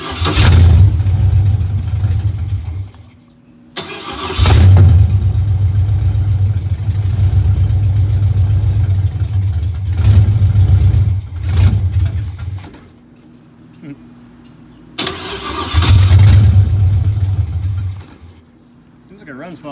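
A 1975 Firebird Formula with a swapped LS engine runs loudly with a low steady rumble, cutting out briefly twice and starting up again, with short quiet gaps between.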